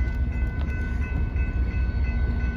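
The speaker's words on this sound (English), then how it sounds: "Oh, here's the train coming." A train approaching at White Rock, British Columbia, Canada, with a steady, loud low rumble of rolling cars and faint sustained tonal notes over it throughout.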